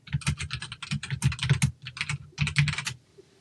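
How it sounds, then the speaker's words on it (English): Rapid computer keyboard typing, with bursts of close, crisp key clicks in an uneven rhythm that stop near the end. "sorry for my clicking."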